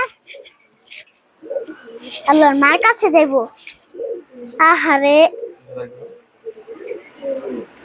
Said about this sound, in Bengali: এই দেখেন আমাদের কবুতরের বাচ্চা